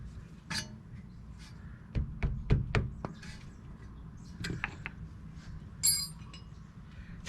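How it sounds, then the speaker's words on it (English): Metallic clinks and short scraping ticks from a wrench working the rear brake caliper bleeder screw on a 2007 Toyota Camry XLE, a quick cluster of sharp taps in the middle with scattered lighter clicks around it, close up and with no talking. "I'm going to be loosening up the bleeder screw."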